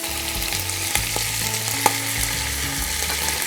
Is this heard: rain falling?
no